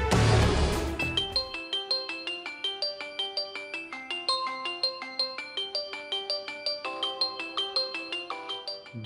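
A mobile phone ringtone for an incoming call, a bright repeating melodic pattern of evenly spaced tones that plays on steadily and clearly after a brief burst of other sound at the start.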